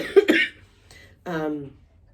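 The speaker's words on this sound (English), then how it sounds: "I'm just going to start coughing again" A short burst of two quick coughs close by, followed after a pause by a brief voiced throat sound, all fairly quiet.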